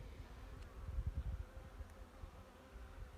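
Honey bees buzzing at an opened hive during a beekeeping inspection, a low steady droning hum close by that swells briefly in the middle, no voices.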